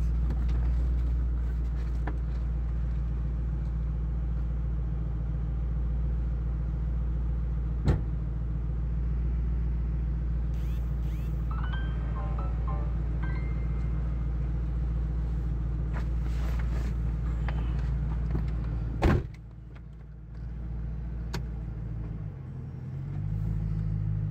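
A 2005 Ford Mustang GT does donuts, its engine holding a steady, heavy rumble throughout, with a sharp knock partway through and a brief dip near the end.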